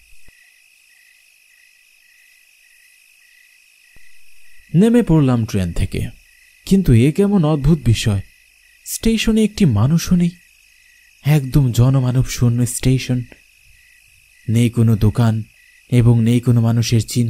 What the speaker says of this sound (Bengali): চারিদিকে ঘুটঘুটে অন্ধকার আর ঝিঝি পোকার ডাক।